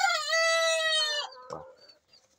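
A silkie crossbreed chicken gives a drawn-out, tonal call up close, then a few short, softer clucks before falling quiet.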